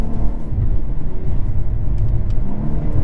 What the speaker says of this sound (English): Oh, the burbles, oh my god.